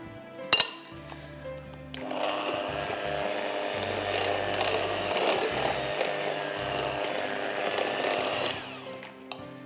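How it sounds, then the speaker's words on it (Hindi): An electric hand beater whirs steadily through chocolate carrot loaf batter, a continuous motor drone with light clinking, starting after a brief knock and running for several seconds before stopping. "And now I am going to use my beater."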